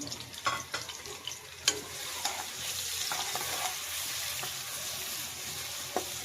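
Spices and sliced medium onions fry in a pan with a steady broadband sizzle, broken by sharp scrapes and clicks of stirring spread across the clip; no talking.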